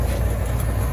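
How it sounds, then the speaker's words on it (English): A steady, loud, low mechanical rumble drones on without change from a house furnace burner running close by. "Obviously the furnace is running as I'm testing this out here."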